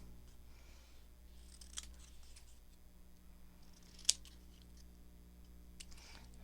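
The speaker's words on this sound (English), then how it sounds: "let's cut this one smaller." Scissors cut a paper craft tag. A few crisp, close snips come at irregular spacing, with one sharp cut standing out, over a quiet, low background hum.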